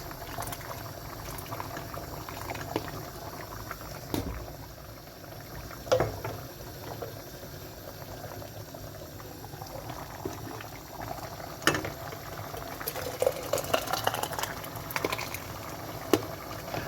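Hot liquid poured from a cezve bubbles and boils in a pot while making winter melemen, a continuous close bubbling hiss with occasional louder pops and splashes, no talking.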